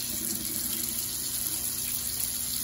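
Cold water runs steadily from a faucet into a sink, a continuous close hiss with no pauses and no voices.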